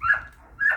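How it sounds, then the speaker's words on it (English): Dogs bark twice, short and fairly close, with a brief gap between the two barks, heard alone without talk. "these dogs are making such a racket"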